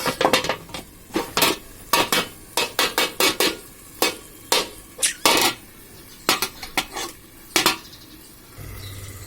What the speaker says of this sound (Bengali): তার উপরে আমরা ঢাকনাটা দিয়ে দিই।